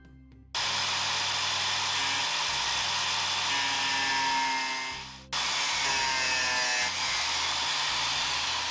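A saw cuts through a piece of wood for a clamp ruler stopper. The sawing is loud, continuous and close, with a brief pause midway before it resumes.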